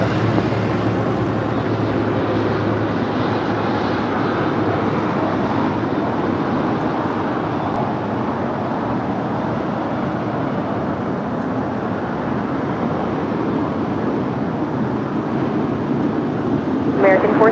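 An Air Canada Boeing 777-200LR airliner arrives at LAX, a steady broad roar of jet engines and wind rumble held loud throughout, with a voice speaking faintly underneath.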